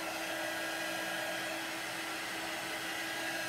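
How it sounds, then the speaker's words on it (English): A steady, even blowing whir with a constant tone, like a hair dryer running close by for the whole stretch. "you can dry it with a hair dryer"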